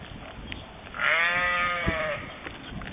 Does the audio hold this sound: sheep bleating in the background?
yes